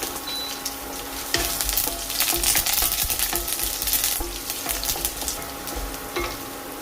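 Garlic fries in hot oil with mustard seeds, dried red chillies and curry leaves, making a loud, steady sizzle with crackling pops and repeated stirring scrapes that swell in the middle and ease slightly toward the end.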